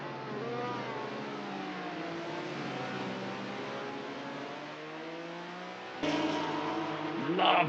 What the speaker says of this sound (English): You can hear one of the cars coming up behind them though.